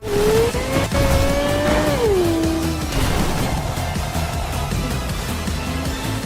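Car engine and tire noise from driving in the Cyberpunk 2077 video game with first-person view, a loud continuous motor drone whose pitch rises then drops, joined by a squeal near the start, with no talk.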